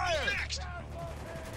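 Squad gunfire in the video game Spec Ops: The Line, a dense burst of shots up front that thins into a steadier, lighter stream of fire, with someone talking over it.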